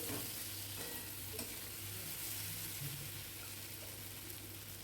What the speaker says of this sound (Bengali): আলুটা দিয়েও কষিয়ে নিলাম